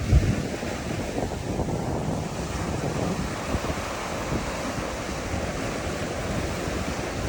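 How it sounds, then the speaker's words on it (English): Strong morning wind of about 20 to 30 mph blowing outside an inflatable tent, a dense continuous roar and buffeting rush like surf, steady and loud with no voices. "So this is showing you what kind of winds we're having this morning."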